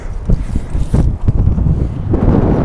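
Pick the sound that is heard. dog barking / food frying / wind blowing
wind blowing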